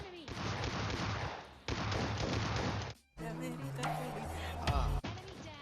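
Gunfire in the PUBG Mobile Lite mobile battle royale game: dense, loud bursts of automatic weapon fire fill the first three seconds, then a brief gap before more game sounds and music-like tones with scattered shots.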